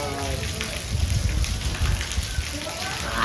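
Rain falling during a family outing in the first monsoon shower, a dense steady patter and wash of water close by, with voices and movement mixed underneath.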